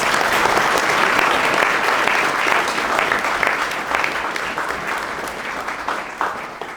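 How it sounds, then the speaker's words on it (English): Audience applause at a senior awards assembly, a sustained, dense wash of many hands clapping that stays loud throughout and eases slightly toward the end. "let's give her a round of applause nonetheless"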